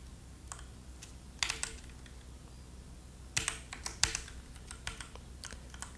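Typing on a computer keyboard while editing a Neovim config on Windows: quiet, close clicks come in scattered short bursts and single taps over faint steady background hiss, with no speech.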